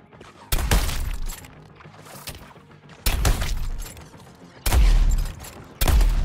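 Gunfire in the video game Suicide Squad: Kill the Justice League: loud, sharp bursts of shots with shattering impacts, arriving in three or four separate volleys with quieter game ambience between them.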